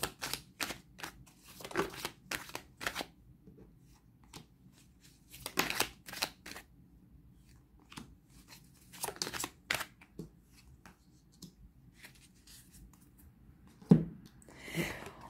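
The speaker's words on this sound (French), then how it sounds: "3 cartes pour les béliers pour le mois d'octobre, s'il vous plaît" Tarot cards shuffled and drawn during a reading, giving repeated crisp riffling bursts and soft slaps of cards at close range, with quiet pauses between the bursts and a sharp snap near the end.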